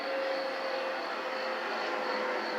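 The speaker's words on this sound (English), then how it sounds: "That, I believe, is a 737. It's a short runway, so they have to go into reverse and slow down and land." A Boeing 737 lands on a short runway using reverse thrust, producing a loud, continuous, even jet roar that holds steady throughout with no talking over it.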